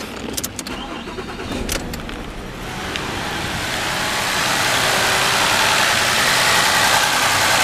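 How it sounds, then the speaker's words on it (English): A 2009 Ford Fusion with an ignition coil fault (code P0351) cranks and starts up nearby, settling into a steady, loud idle hum that builds and holds to the end. "put a little ground on it here, and then start the engine"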